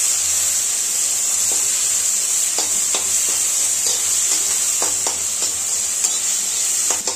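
Tomatoes with a little salt fry and sizzle in a pan while Maggi noodles are prepared, a steady bright hiss with scattered crackles and soft stirring clicks throughout.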